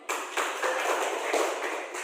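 Students in a classroom clap together for a classmate, a brisk run of close, fairly quiet claps that keeps a steady rhythm for about two seconds.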